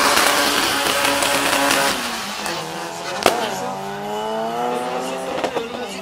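A Golf Mk2 at a drag race spins its tires in a burnout, the engine revving hard and rising in pitch under a loudspeaker announcer and crowd noise.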